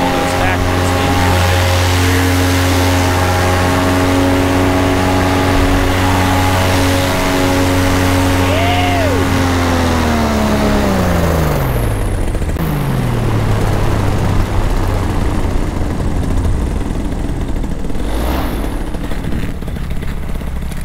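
Paramotor engine and propeller flying a 14 sqm Dominator wing, a loud droning buzz that holds steady then winds down in pitch near the middle and keeps running lower, with wind rush throughout.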